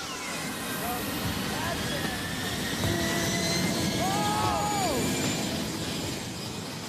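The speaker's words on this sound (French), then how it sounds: "Progressivement mais sûrement, l'avion atteint bientôt sa puissance maximale" Loud, sustained roar of a Boeing 747's jet engines running at high power, with whining tones rising and falling, close by.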